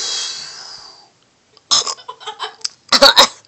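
A loud, drawn-out burp opens the clip and fades after about a second, followed by a pause and then a burst of rough throaty sounds and laughter nearby.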